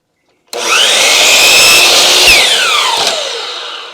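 Power saw bites into 2x4 lumber for home-built roof trusses, one loud continuous cut with a whining tone that dips as the blade finishes, ringing alone from start to end.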